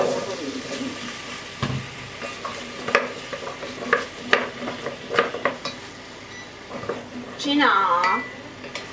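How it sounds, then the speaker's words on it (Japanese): Meat and sliced potatoes stir-fried in a pan, with a steady sizzle under clattering and scraping of a utensil in quick strokes, while someone speaks briefly. "じゃあお肉と炒めていきたいと思います"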